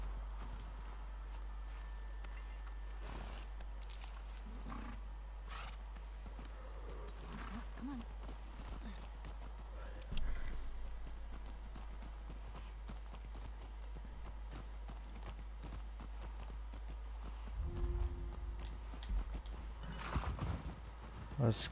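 Horse hooves clip-clopping in the video game The Last of Us Part II, a steady walking rhythm under game music and ambience, with people talking intermittently over it.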